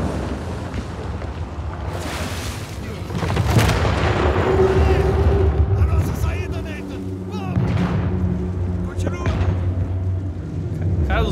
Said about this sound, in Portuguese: Os bagulho tá pegando fogo, tá dando tiro os canhões.